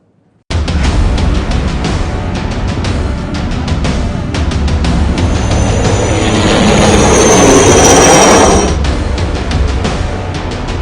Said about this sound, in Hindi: आसमान में हेलीकॉप्टर की आवाजें